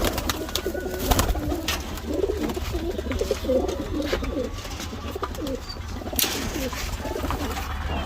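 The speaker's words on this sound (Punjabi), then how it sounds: "ਸਾਡਾ ਜੋੜਾ ਕਮੱਗਰ ਕਬੂਤਰ ਹੈ" Kamagar pigeons cooing in soft, repeated throaty rolls, fairly close, over a steady low background hum.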